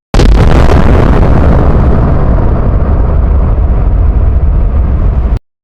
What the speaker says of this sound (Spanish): la explosión lo empujara varios metros hacia atrás